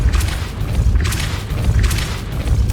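Repeated Depulso force-push spell impacts in Hogwarts Legacy, a dense run of loud booming thumps with rushing, whooshing highs, several bursts close together with no pause.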